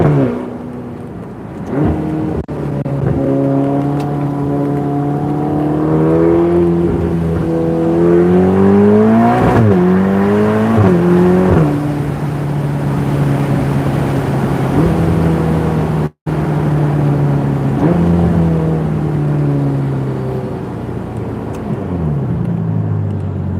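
A Ferrari Portofino engine revs up and down repeatedly, its pitch climbing and falling in long sweeps, loud and close, with a brief cut near the middle and no voices.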